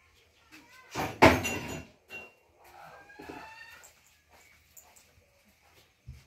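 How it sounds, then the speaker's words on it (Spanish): A hen clucks at a home with chickens: one loud burst of squawking early on, then a few softer, scattered clucks and faint background noise. "una gallina me estaba haciendo bulla ahí"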